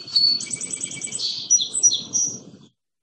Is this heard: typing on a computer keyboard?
no